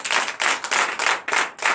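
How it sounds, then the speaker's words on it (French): Church congregation applauding during a Sunday service in Benin, a dense burst of many hands clapping in rapid uneven waves, fairly loud and close, with no voices over it. "Donc je vous demande d'applaudir encore très fort."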